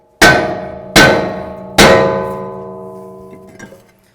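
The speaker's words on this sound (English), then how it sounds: "I'm going to hold my rotor, and I'm just going to give the hat a couple bonks" A hammer strikes the hat of a rear brake rotor on a 2007–2014 Ford Edge three times. Each blow is a loud, close metallic clang that rings out and slowly decays.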